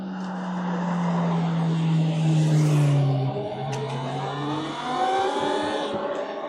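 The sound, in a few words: car passing by on the road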